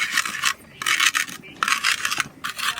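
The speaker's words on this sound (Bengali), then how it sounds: "ভাজা জিরেটা একটু গুঁড়ো করে নেব" Roasted cumin seeds are ground with a harsh, gritty rasping in four rhythmic strokes separated by short pauses, close and fairly loud.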